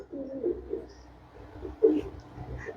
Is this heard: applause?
no